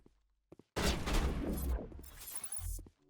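Sniper gunfire in the Mass Effect Legendary Edition shooter: after a near-silent lead-in with a couple of faint ticks, a sudden loud blast rings out, then trails off into scattered clicks and a low thud.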